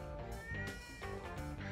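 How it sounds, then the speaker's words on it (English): A cat meows in a harmonic wail over a dense musical bed, its cries rising and falling several times across a short stretch at moderate loudness. "No, it's a cat."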